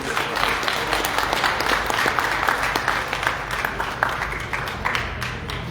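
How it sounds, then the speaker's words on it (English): Audience applause at a keynote address launch event, a dense continuous wash of many hands clapping, steady and moderately loud with some crowd noise. "Let's give her a warm round of applause, please."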